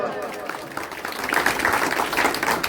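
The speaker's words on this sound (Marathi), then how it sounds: "मस्त मस्त एकदा जोरदार टाळ्या वाजवा" A village Shiv Jayanti audience claps loudly after a powada performance, a thick burst of close applause that swells toward the middle and keeps going, with voices mixed in.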